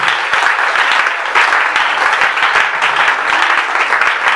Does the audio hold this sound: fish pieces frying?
no